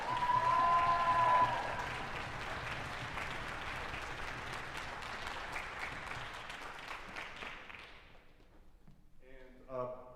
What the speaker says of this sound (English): So would you please give another round of applause for our counselors?